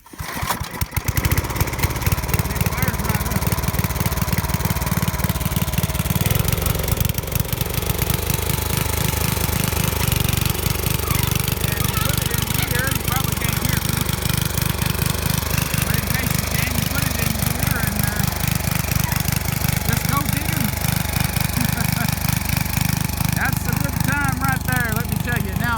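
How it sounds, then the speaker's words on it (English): An 8 horsepower Briggs & Stratton garden tiller engine with recoil start catches and keeps running steadily throughout, a loud, close, rough chugging drone. "This is an 8 horsepower Briggs & Stratton, and Dad's going to start it for us here."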